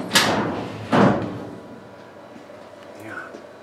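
A door on a CO2 laser bed cover bangs shut twice in quick succession, two sharp close thuds, followed by quieter room sounds and a faint brief tone.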